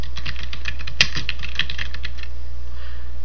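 A short burst of quick keystrokes on a computer keyboard as a zone name is entered in a Zen Cart admin panel, close and clear, with one sharper key hit standing out and no talking.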